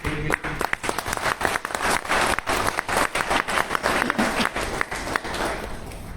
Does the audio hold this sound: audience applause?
yes